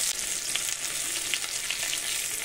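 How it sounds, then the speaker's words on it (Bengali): Crushed garlic sizzles steadily in hot oil in a pan along with bay leaf and panch phoron, a dense continuous frying hiss with faint stirring touches throughout. "রসুনটা আমি হালকা করে ভেজে নেব।"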